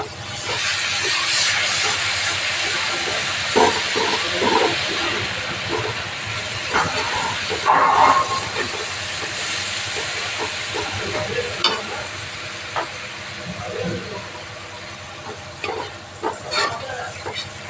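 Spice paste frying in a pan for a Bengali lao chingri (bottle gourd and prawn) dish, giving a steady sizzle with occasional stirring scrapes, close and fairly quiet, with no talking.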